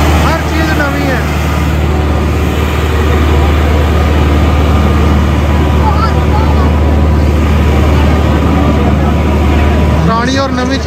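A 385 tractor engine drones steadily at a rural tractor competition fair, a loud continuous low-pitched chug running throughout with someone talking over it.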